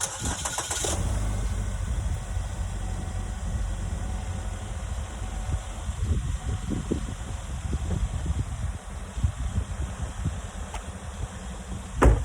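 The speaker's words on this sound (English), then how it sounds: "I'll start the engine and let me know how you feel it." A car engine cranks and catches with a loud burst at the start, then settles into a rough, uneven idle rumbling close by for several seconds before a final revving surge.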